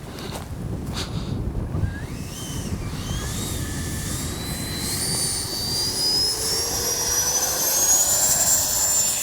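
A Freewing 90mm Zeus RC jet flies overhead. Its ducted-fan engine whines steadily and rises in pitch as it passes, with wind buffeting the microphone throughout.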